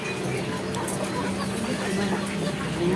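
Native backyard hens cluck in soft, scattered bursts against a steady outdoor background hum, with a few faint calls from other fowl in the flock.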